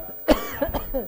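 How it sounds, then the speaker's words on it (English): A single sharp cough followed by a couple of smaller throaty coughs, close and brief. "now we're going to start coughing"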